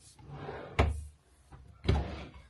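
Drawers of a new vanity table opened or closed twice, each a short wooden slide ending in a solid thump, close and fairly quiet in a room.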